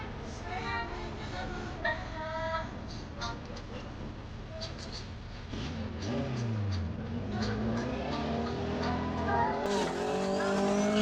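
Drag racing cars at a Jamaican drag strip event roar as they launch, with engines revving and tires squealing, fairly faint and steady, under talking and background sound.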